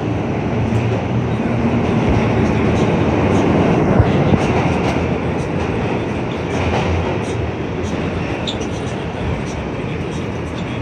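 A New York City subway C local train rumbles along the tracks with a steady, loud roar and faint rattling of wheels, heard on board, continuous throughout.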